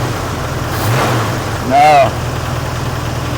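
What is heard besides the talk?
car engine being revved under the hood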